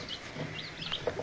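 Sick eight-day-old chicks cheep in a few thin, high peeps, close and fairly faint over a quiet background.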